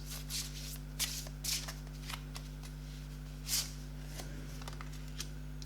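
Oracle cards being shuffled during a pick-a-pile reading, giving soft papery riffles and slides in a few separate bursts over a steady low hum, close and fairly quiet, with no talking.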